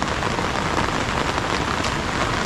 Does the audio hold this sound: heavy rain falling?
yes